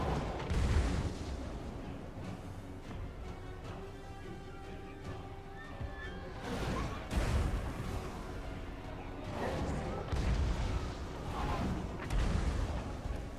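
Artillery fire pounding fortress walls during a siege battle in Total War: Warhammer, heavy booms recurring every few seconds amid a dense wash of battle noise, horses and distant clashing, loud and continuous throughout.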